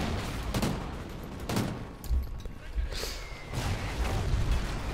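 Heavy gunfire from the Call of Duty: Ghosts singleplayer mission "Flood", with repeated loud bursts and shots over a dense, continuous battle din and no talk heard.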